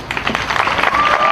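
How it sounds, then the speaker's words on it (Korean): Applause and cheering from a large crowd at an outdoor rally of about 12,000 resident doctors in Yeouido, Seoul, a dense, steady clatter of many hands close by, with a voice heard faintly over it. "박수 부탁드립니다."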